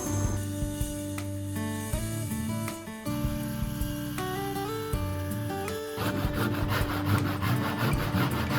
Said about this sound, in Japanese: この木を切っていきます。